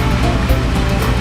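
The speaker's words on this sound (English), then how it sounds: "then I'll turn my water on and get water on top of it" Steady water gushing into the feed funnel of an MSI gold shaker table, a loud continuous close rushing and splashing with no pauses.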